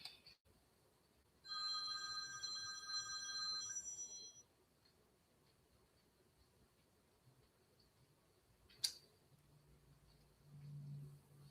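A telephone rings for an incoming call from an unknown caller, one clear electronic ring burst of about three seconds, then a quiet room with a brief click and faint rustle afterward.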